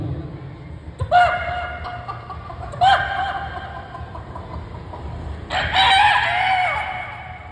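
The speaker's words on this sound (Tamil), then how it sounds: "இது சேவல் பார்த்தீங்கன்னா காலைல 4 மணிக்கு கூவும். அப்படிதான் கூவுது." Three rooster crows ring out in turn, each a bright harmonic call, the last one longest and loudest, over a low steady background hum.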